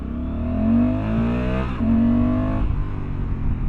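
A Honda Africa Twin motorcycle pulling hard in first gear, engine climbing in pitch with a loud, close roar, a brief dip midway, then rising again.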